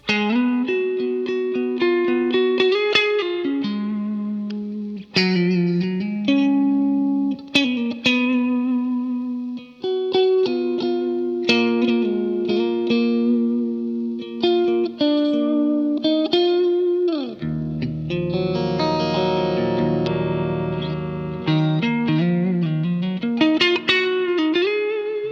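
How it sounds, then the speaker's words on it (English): Electric guitar through a Walrus Audio ACS1 amp and cab simulator playing riffs and sustained chords drenched in reverb, notes ringing out and blending into long washy tails, with a deep low note midway. "let's throw on the reverb again."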